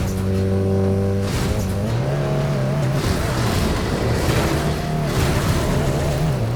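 Car engine in the off-road racing game Fuel, loud and continuous, the engine note rising and falling as the vehicle drives across rough terrain, with gear changes and a gritty tire and gravel wash underneath.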